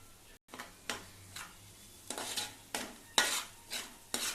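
Spiced curry with salt, turmeric and chilli powder being stirred in a pan: a series of distinct scraping sweeps roughly every half second to second, over a faint low sizzle, close and without talk.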